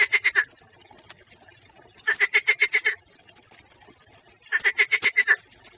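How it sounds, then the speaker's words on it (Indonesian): A frog croaks in three rhythmic bursts of rapid, evenly spaced pulses, each volley lasting under a second, clear and fairly near against a quiet background. "biasanya kita sering mendengar suara katak"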